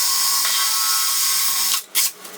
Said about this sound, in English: Just drill a pilot hole. So I've got a small drill here.